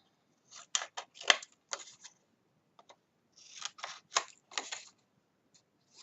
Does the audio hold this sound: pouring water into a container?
no